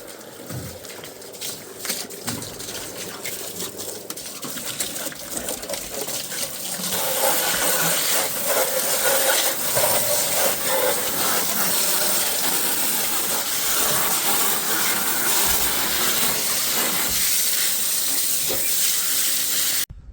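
Running water washing something out in a yard, a steady broad hissing splash that grows louder partway through and keeps pouring continuously until the end, close and without talk.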